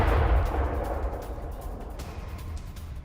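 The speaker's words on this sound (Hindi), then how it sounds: "धमाके की आवाज सुनी गई, कई धमाके हुए हैं" A deep explosion blast booms at the start, then a low rumbling tail slowly fades away, heard from some distance.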